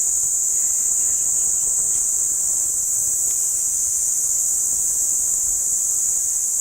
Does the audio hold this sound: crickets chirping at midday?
yes